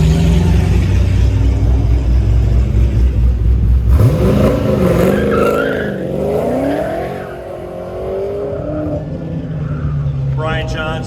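A 1989 Camaro and a 1989 Corvette run an autocross shootout in Del Mar: a loud engine drones, then revs rise and fall sharply through the course. An announcer talks over the cars.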